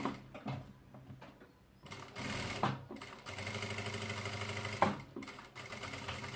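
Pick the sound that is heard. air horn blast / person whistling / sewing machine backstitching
sewing machine backstitching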